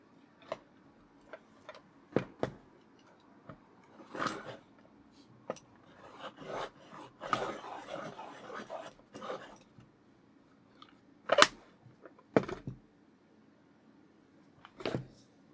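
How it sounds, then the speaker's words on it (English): A Prismacolor colored pencil being sharpened, with faint, sparse scraping and ticking strokes of blade on wood and pigment core, separated by quiet gaps, no talking. "Now I've got a chance to sharpen one."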